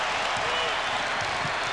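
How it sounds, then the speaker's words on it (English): Applause and crowd noise from a basketball arena audience at a San Antonio Spurs at New York Knicks game, a steady broadband wash of clapping and cheering throughout with commentary voices faintly underneath. "Crowd responding"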